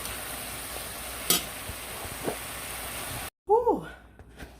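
Coconut corn sizzling and being stirred in a pot on a stove, a steady frying hiss with a couple of sharp clinks, cut off abruptly near the end before a brief voice-like tone.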